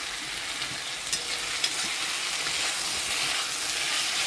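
Beef fry sizzles and hisses steadily in a hot pan while it is stirred, giving a dense frying crackle with a few sharp scraping clicks. The sound is close, and no one talks.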